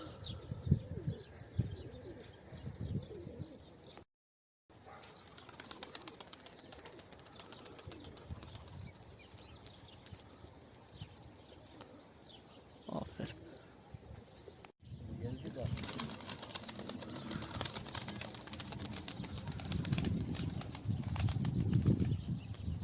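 Wings flap and flutter as pigeons take off and fly past outdoors, with scattered chirps and cooing, while people talk over the scene.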